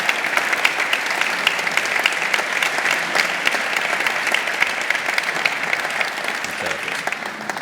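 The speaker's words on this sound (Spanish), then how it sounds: "Yo creo que merece un aplauso, consejero." Sustained audience applause for a regional councillor at an agricultural forum, dense and fairly loud, holding steady for nearly eight seconds.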